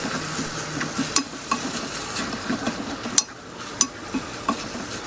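Kimchi sizzles in a frying pan while a utensil stirs and scrapes, with sharp clinks against the pan at irregular moments.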